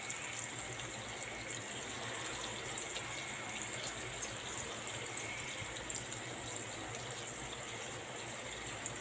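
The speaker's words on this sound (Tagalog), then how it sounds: "Tapos, lagyan natin yan ng tubig." Steady rushing of water pouring into a pot for pancit, continuous and fairly even throughout with no pauses, close by and without talking.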